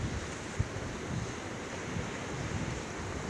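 Surf washing onto the beach at Camara de Lobos on a hot day, a steady low rumble of waves with wind noise on the microphone and one faint thump, no talk.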